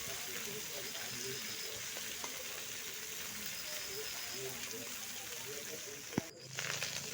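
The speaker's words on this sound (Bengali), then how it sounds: "এইভাবে উল্টে পাল্টে চিংড়িগুলোও কিন্তু ভেজে নিচ্ছে" Prawns fry in oil in a pan as they are turned over, a quiet, steady sizzle with a few small clinks and a brief clatter near the end, and a faint voice now and then.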